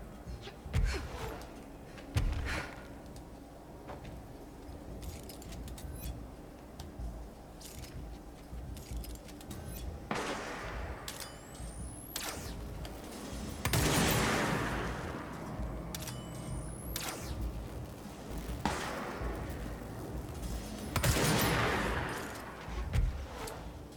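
Sniper gunfire in the video game Control comes as several sharp, echoing cracks spaced seconds apart, over a busy background of metallic clatter and rattling.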